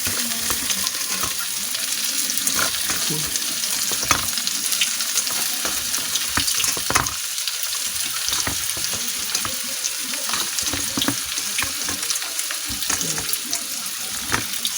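Vegetables for pancit stir-fry in a hot pan with a continuous loud sizzle, broken by frequent scraping and clanking strokes of the spatula against the pan. Light speech is faint underneath.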